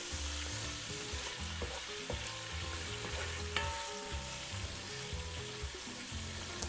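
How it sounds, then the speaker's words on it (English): Pork chop sautéing in a pan for Puerto Rican yellow rice with pigeon peas, a loud continuous close sizzle with rhythmic stirring scrapes and occasional clinks, no voices. "So the pork chop is sweating all those juices."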